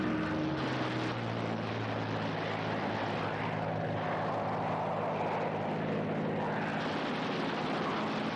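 Propeller-driven U.S. warplanes from a WWII Midway battle game roar continuously in a dense, steady engine drone, with no talk over the sound.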